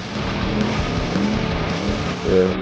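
A Lamborghini Huracan race car engine drones loudly and continuously with throttle blips on an off-piste course, a dense steady roar with a slight swell near the end.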